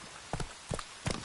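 Horse hooves in The Witcher 3 video game give three evenly spaced clip-clop hits, soft and fairly close, with no voices.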